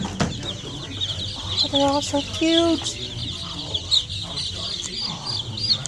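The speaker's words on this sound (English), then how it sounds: "Look at all the baby chickens." Baby chickens peep and cluck in a cluster of short chirps, with livestock ambience underneath while a person speaks nearby.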